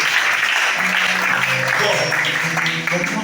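A church congregation at a Sunday worship service in Libreville, Gabon, claps loudly and continuously in a dense wash of applause, with voices sounding through it.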